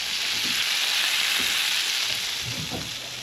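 Venison and pork sausages with jalapeno and sour cream fry in a pan during a fishing trip in the Marlborough Sounds, giving a continuous close sizzle with faint soft knocks underneath and no talking.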